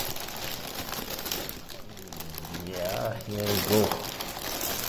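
Plastic packaging of a Stanley hot melt glue gun crinkling as it is unwrapped, close and continuous rustling with someone talking over it.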